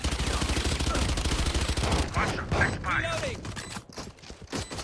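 Rapid gunfire in the tactical shooter video game Valorant, dense bursts of automatic shots for the first two seconds, then scattered shots and game effects beneath a player's voice callouts.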